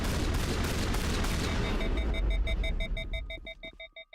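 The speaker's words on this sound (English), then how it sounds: "let me shoot through these shields." Rapid gunfire from a weapon shooting through enemy shields in Mass Effect, a dense loud burst of shots that gives way to a series of evenly spaced, ringing electronic beeps fading at the end.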